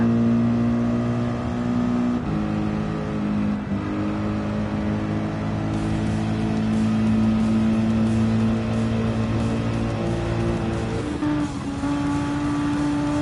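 Mercedes-AMG race cars howl around a circuit in a sustained, loud engine drone, their revs rising and dipping as they pass, with a shift in pitch near the end and no talk over the roar.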